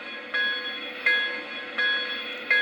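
A model train's bell rings in evenly spaced strikes, four dings about three quarters of a second apart over a low steady hum, with no voices.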